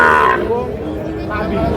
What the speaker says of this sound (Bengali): আমরা এই পাশে দেখছি একটা সুন্দর সাইজের শাহিওয়াল ষাঁড় গরু